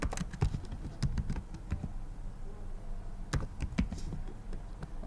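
Close computer keyboard typing as a name is entered into a form, quick clustered keystrokes in two bursts separated by a pause, alone with no speech.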